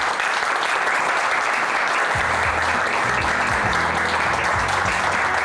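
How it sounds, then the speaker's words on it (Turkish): A TV talk show studio audience claps steadily and loudly throughout to welcome a guest, a dense wash of applause; a low musical tone joins partway through underneath. "Tabii ki alkışlarla."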